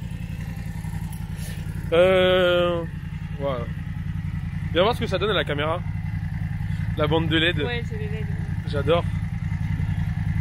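A BMW F900R or F900XR motorcycle engine idles steadily and low throughout, while a few people talk over it in short bursts.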